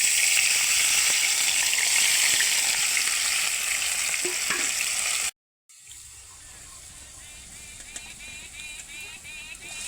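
Cumin and a ground spice masala fry in a wok with a loud, dense sizzle that drops out abruptly about halfway, then returns as a quieter, steady frying hiss.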